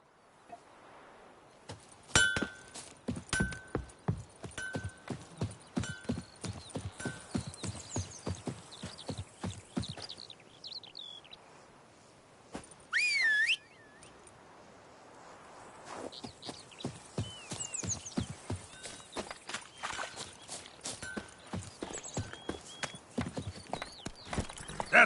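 Hooves of Roach, Geralt's horse in The Witcher 3, clip-clop in a quick steady gallop that pauses midway and then resumes, with a short whinny in the break and faint birdsong and ambient game sounds behind.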